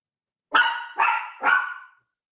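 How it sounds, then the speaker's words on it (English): Three sharp dog barks in quick succession, evenly spaced and fairly close, with silence before and after. "the dogs kept barking"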